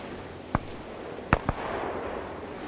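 Gunshots in a WW2 video game: three sharp reports, one alone and then a close pair, loud over a steady low background rumble.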